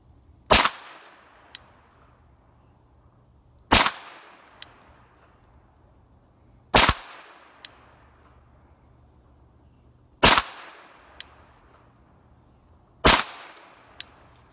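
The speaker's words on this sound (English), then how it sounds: "What we're going to do is go to 25 yards, shoot another group" A Glock 19 pistol fitted in a Micro Roni fires a group at 25 yards. Five sharp, loud shots come at an even pace about three seconds apart, each followed by a faint metallic tick, with quiet in between.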